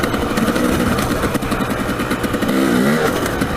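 A dirtbike engine revs steadily and loud, heard from the rider's position on the Rolls OHV trail in Arizona, with a rising and falling mechanical drone and clatter throughout.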